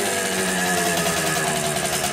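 A Hodaka Ace 100 motorcycle engine idles as it warms up, a steady, buzzy two-stroke drone with fast even pulsing, close and continuous throughout with no talk.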